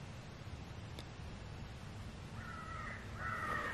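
Crow caws from an electronic caller used while crow hunting with decoys begin after a quiet, rustling outdoor stretch, a few harsh calls growing louder toward the end.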